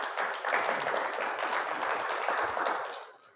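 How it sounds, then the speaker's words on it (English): An audience at a philanthropy talk applauds a featured guest, a dense, steady patter of many hands clapping at close range that fades toward the end. "let's give Amir another round of applause here"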